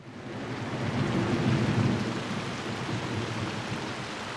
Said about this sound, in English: we were lulled to sleep by the rain and a cozy fireplace